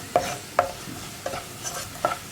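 Carrot and bitter gourd stirred into chili powder frying in a pan for a Kerala mezhukkupuratti, giving four or five distinct scraping stirs spaced about half a second apart over a soft sizzle.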